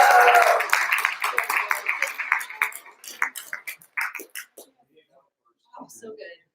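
Audience applause for a speaker being introduced at a DenverScript meetup, a dense burst of clapping from a room that thins into scattered claps and fades out, followed by a couple of faint claps near the end.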